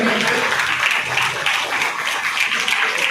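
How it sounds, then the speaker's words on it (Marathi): An audience at a music academy's seventh anniversary celebration applauds, producing a dense, steady wash of clapping from many hands that lasts throughout without a clear break. "जोरदार टाळ्या झाल्यात"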